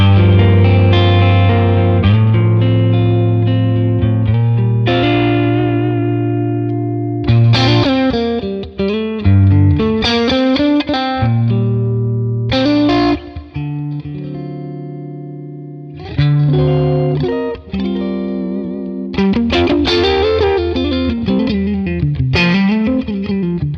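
Clean electric guitar through a Neural DSP Tone King amp with a TS-style overdrive in front and a touch of reverb, playing ringing chords and melodic phrases with sustained notes and short pauses, loud and alone.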